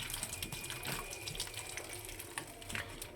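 Food is rinsed under a running kitchen tap, a steady close splashing stream of water with small irregular spatters and clinks, no voices.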